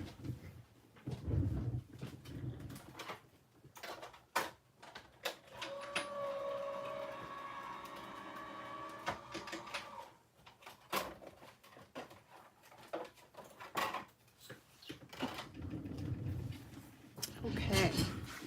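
A card-making machine feeds a card through with a steady mechanical whir and rolling hum lasting several seconds in the middle, bracketed by rustling, handling noises and brief talk before and after.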